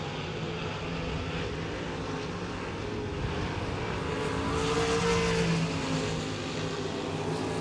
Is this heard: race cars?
yes